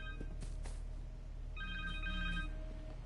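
A cell phone rings in the video game Marvel's Spider-Man 2, a repeating electronic ring tone in two short bursts over a steady game background hum.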